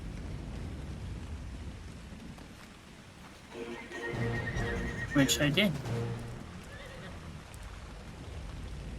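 A horse in the video game ARK Ragnarok lets out a single loud, wavering whinny midway through, over a low rumbling game ambience, with someone talking briefly before it.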